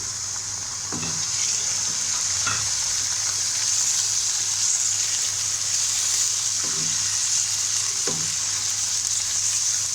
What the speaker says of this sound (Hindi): मैं 5 मिनट तक इसको फ्राई करूँगी।